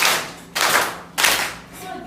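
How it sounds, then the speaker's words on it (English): A class of pupils claps hands for classmates in two short, energetic bursts of rapid clapping, close and loud, with brief pauses between. "Clap hands for you."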